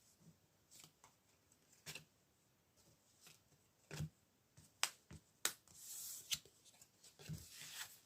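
Tarot cards are handled quietly up close: scattered soft snaps and flicks of cards being shuffled and drawn, with a brief rustling slide near the end, all faint with no talking.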